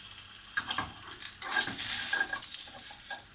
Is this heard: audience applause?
no